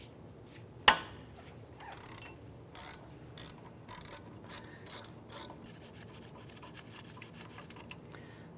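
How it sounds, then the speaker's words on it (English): A ratchet with a 17mm socket loosens the caliper bracket bolts on a 2001-2005 Honda Civic, giving one sharp metallic crack followed by a run of quiet clicks and rubbing at close range. "Using a 17mm socket in your ratchet, I'm going to go ahead and loosen and remove the caliper bracket bolts."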